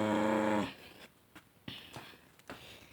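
A voice imitates a low growl, a short rough rumble at the start followed by breathy, scratchy bursts and quieter noises.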